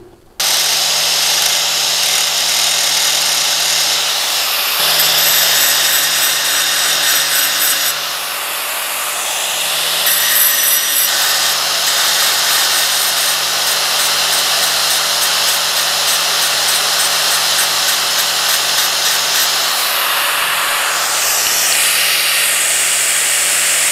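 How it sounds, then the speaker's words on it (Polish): Grinder working a hand-forged knife blade in a smithy, a loud continuous abrasive whine and rasp with shifting pressure and brief easing between passes, heard alone without speech. "I teraz się przerzucam na szlifierkę"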